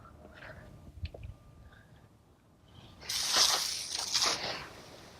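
Pressurized water rinses a Porsche Panamera wheel, washing off cleaner, brake dust and tire dressing. A broad, loud hiss bursts in about three seconds after a few soft handling noises and keeps running steadily to the end.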